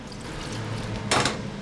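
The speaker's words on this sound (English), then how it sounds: "And then you just fill it up with water." Water pours over beetroot with sugar and vinegar in a kitchen, a soft steady fill that ends in a brief, brighter splash.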